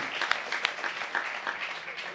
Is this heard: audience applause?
yes